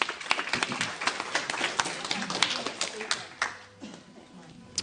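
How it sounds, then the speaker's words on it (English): An audience at a meet-the-candidates event gives a short round of applause, scattered claps bunched closely and fading after a few seconds, with talk mixed in. "Round of applause."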